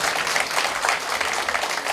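An audience at a dance club festival event gives a short burst of lively, dense applause, close and continuous throughout.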